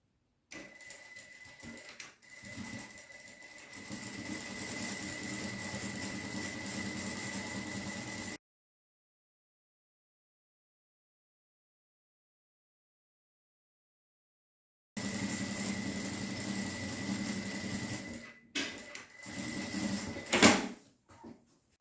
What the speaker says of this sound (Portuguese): agora eu vou lá na máquina e vou fazer uma costurinha